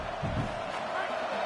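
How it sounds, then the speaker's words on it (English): A stadium crowd roars in a college football video game, a broad steady wash of cheering filling the brief moment with a faint low thump near the start. "Listen to this crowd just shaking the girders of this place, trying to help their defense"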